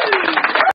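Canned applause effect fired from an SK80 live-streaming sound card, a dense burst of clapping at full volume that cuts off abruptly after under a second.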